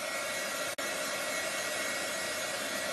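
A heat tool blows hot air in a steady, loud whoosh to dry chalk paste on a patterned craft surface, the airflow cutting out for a split second before resuming without any talk.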